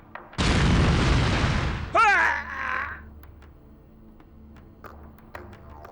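Bombs striking a city in the strategy game Call to Power 2: a loud, sustained blast roars for over a second, then a shorter second burst follows and fades into low rumble.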